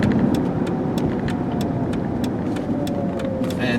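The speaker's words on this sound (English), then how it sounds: "And it gets right up to speed with that V6, which is nice." A 2002 Jeep Liberty Sport 4x4 with a V6 cruises on the road on a cold day, a steady engine and tire hum with light rhythmic ticking throughout, heard from inside the vehicle.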